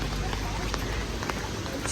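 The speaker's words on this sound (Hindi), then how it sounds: "बहुत बारिश हो रही है" Heavy rain pours during a Republic Day parade rehearsal, a dense continuous hiss of falling water close around, with crowd voices faintly mixed in.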